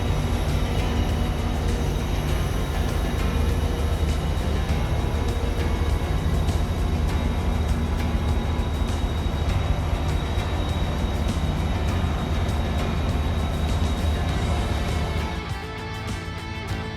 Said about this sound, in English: our locomotive is a Motive Power MP36PH-3C, a common choice of commuter rail power across the country